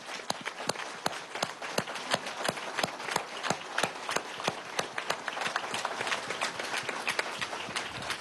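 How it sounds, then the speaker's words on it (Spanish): A crowd at an outdoor ceremony applauds to honor firefighters, giving steady, dense clapping that sounds moderately distant and fairly soft and lasts the whole stretch with no talking. "vamos a darle un aplauso a esos compañeros"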